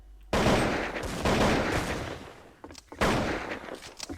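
Video game gunfire cracks out in loud broadband bursts, with sustained rattling volleys near the start, a second surge, then sparser shots and another burst toward the end.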